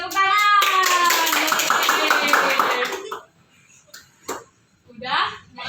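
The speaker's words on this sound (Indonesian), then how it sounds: "Tepuk tangan." Children clap together in a fourth-grade elementary school science class in Indonesia, a dense, steady burst of hand clapping mixed with young voices for about three seconds before it stops and talk follows.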